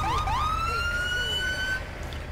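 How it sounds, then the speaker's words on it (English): An ambulance siren in the video game GTA 5 wails loudly and close by, its tone sweeping up in two quick rising whoops and then holding a long high note before cutting off. "This siren fits this ambulance really well."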